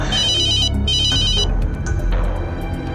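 Telephone ringing with a call from a police patrolling team, bursts of bright electronic ring tones repeating twice over a low background hum, then fading into softer tonal blips, no speech.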